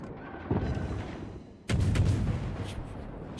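Gunfire and artillery in a naval video game pound at a ship, with bursts of booming shots starting midway and continuing as a dense, fairly loud barrage with no talking.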